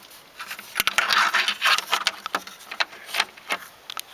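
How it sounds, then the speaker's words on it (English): Rain begins falling outdoors on December 31st, close, irregular patter and scattered sharp drops tapping hard surfaces, rising and falling in bursts. "it just started raining out"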